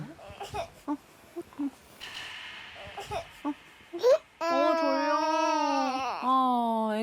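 A baby who has just woken fusses and whimpers in short bursts, then breaks into loud, sustained wailing cries close up, rising and falling in pitch near the end.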